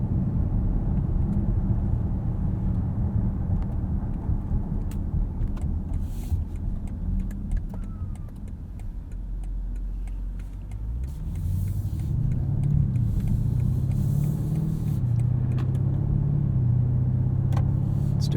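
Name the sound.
2020 Alpina B7 xDrive brake test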